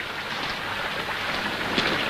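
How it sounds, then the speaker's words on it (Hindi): Heavy rain falls in a steady, unbroken hiss that continues without pauses, loud and close, with no other sounds standing out. "बारिश को तो देखो, 7 दिन हो गए, एक पल को भी नहीं रुकी।"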